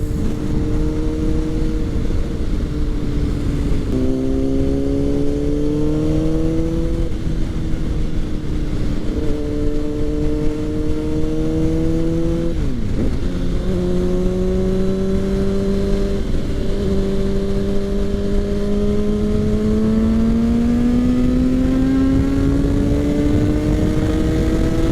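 A loud motorcycle engine revs and accelerates repeatedly through rising gears, droning steadily close by with brief dips between shifts.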